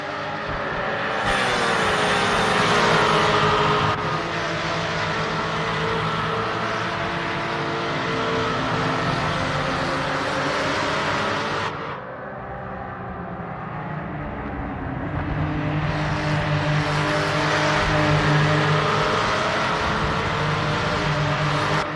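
Race cars in Project Motor Racing roar in close company, engines revving and shifting gears continuously at loud, near level, with a brief lift-off dip midway before the pack noise surges back; no voices.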